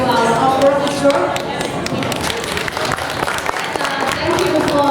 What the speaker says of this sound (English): let's give a big applause to our orchestra